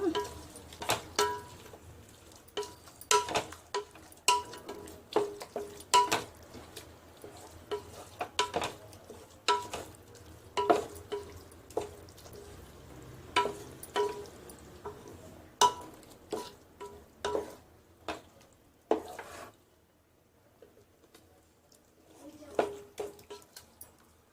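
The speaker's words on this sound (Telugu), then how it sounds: "ఈ మసాలంతా బాగా కలిసేలాగా అంత కలుపుకోవాలి ఇలా" Masala for mutton biryani stirred and fried in a pan, a spoon scraping and tapping in irregular repeated strokes over a low sizzle, with a quieter stretch near the end.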